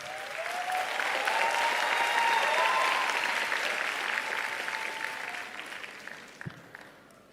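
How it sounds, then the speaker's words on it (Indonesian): Audience applause fills a forum hall at a net-zero summit, a sustained burst of clapping that swells and then tapers off over several seconds, heard alone without speech. "mari kita berikan tepuk tangan yang meriah kepada Ketua KPU Pak Hasyim Asyari"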